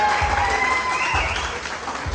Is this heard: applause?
yes